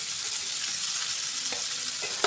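Chopped onions and green chillies fry in a pan for an egg dish, a steady close hiss of sizzling oil with a few soft stirring knocks and no talk.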